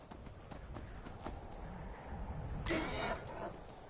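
Hooves of a horse beat a rapid, steady clip-clop rhythm while galloping across Skyrim terrain, heard as mid-level footfalls under a bed of ambient noise, with a brief whooshing burst late on.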